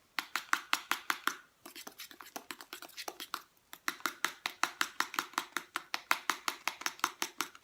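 Rapid, regular tapping and scraping of a utensil stirring a homemade coconut and rose face cleanser mixture in a bowl, close and steady, with a brief pause near the middle.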